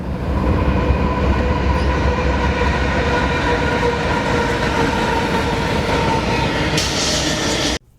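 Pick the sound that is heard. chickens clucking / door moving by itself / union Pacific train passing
union Pacific train passing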